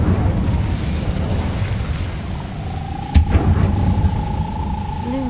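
An Incendio fire spell cast in Hogwarts Legacy bursts out in a single sharp whoosh partway through, over a steady rumbling game background.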